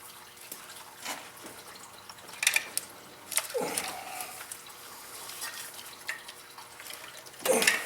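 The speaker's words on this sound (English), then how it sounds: "You can hear the water coming out" Coolant water trickles and splashes out of an engine as an intake manifold hose is pried loose, faint sporadic drips and short gushes heard close up in a quiet workspace.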